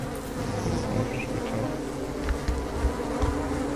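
A bee in the video game Don't Starve buzzes steadily and close, a continuous droning hum that wavers slightly, over a low background bed with a few soft thumps.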